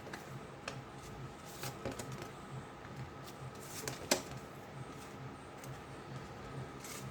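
Quiet, crisp riffling and flicking of tarot cards being shuffled, with soft scattered snaps and one sharper slap near the end, no voices over it.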